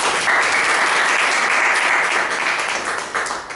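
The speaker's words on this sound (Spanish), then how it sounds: "pido un aplauso para los componentes" A philosophy congress audience gives the panel members dense, sustained applause, loud and continuous throughout, easing slightly near the end.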